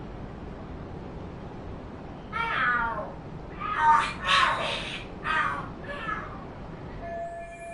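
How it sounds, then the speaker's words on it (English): Cats fighting and screaming in the video game Lost Judgment, a series of harsh yowling, wailing cries in several bursts over quiet background hum. "Are there cats fighting?"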